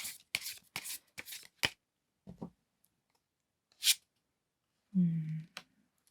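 A tarot deck shuffled by hand in several rapid riffling bursts, then scattered card taps and a short low murmur near the end, close up in a quiet room.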